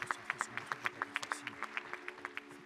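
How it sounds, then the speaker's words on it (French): A union congress audience claps in steady, fairly even bursts. The applause is distant and faint and fades over a few seconds. "Vous pouvez les applaudir."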